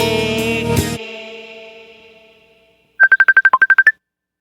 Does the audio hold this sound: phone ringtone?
yes